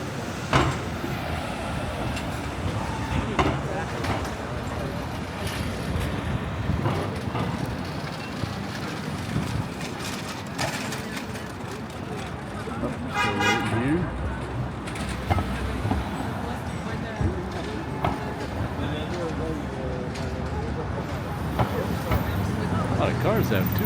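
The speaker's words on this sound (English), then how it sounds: "Here come the cars." Cars pass on 7th Avenue in New York City, a loud, continuous roar of street traffic with rumbling engines and occasional honks, while people talk nearby.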